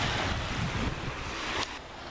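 Sea waves wash steadily with a soft hiss, mixed with wind noise buffeting the microphone and a brief louder gust near the end, heard from a Turkish coast.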